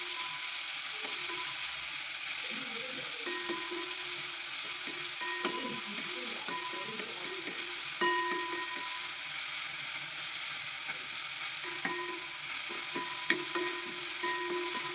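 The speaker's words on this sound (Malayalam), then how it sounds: "ചെറിയുള്ളിയും വെളുത്തുള്ളിയും ചതച്ചത് ഇതിലേക്ക് ചേർത്ത് കൊടുത്ത് ഒന്ന് വഴറ്റിയെടുക്കുക." Crushed shallots and garlic sautéing in ghee keep up a steady, close frying sizzle, broken by scattered stirring scrapes and clicks of a spoon against the pan.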